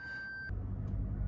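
A Lexus IS300h gives a steady high reversing beep right after being shifted into reverse. The tone stops after half a second, and a low engine or interior hum continues underneath.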